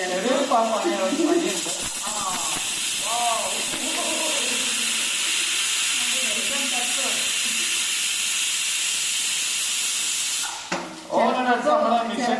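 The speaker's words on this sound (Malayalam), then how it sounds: "കുക്കർ അടിക്കാൻ വേണ്ടിയാവുണ്ട്" A pressure cooker whistle, on a cooker with a fault that usually stops it whistling, hisses loudly and steadily for about ten seconds, then cuts off, while people talk over it.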